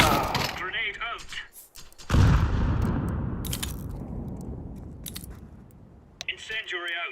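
Grenade thrown in Counter-Strike 2, a sudden heavy blast with a long rumbling decay that fades over several seconds, framed by short game voice callouts and clicks.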